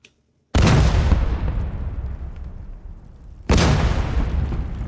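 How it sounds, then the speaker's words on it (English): Two heavy sound-effect explosions close to the camera, the first booming and rolling off slowly before a second loud blast hits; no talking. "I've got some nice distant gunfire and I've got 2 explosions"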